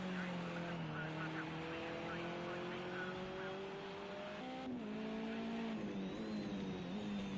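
A BMW touring race car at Catalunya drives past with its engine and exhaust under load, a steady loud drone that steps up through the gears alongside other cars, under faint commentary.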